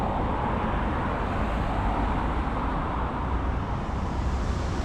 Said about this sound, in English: basically just the fast moving traffic is coming over here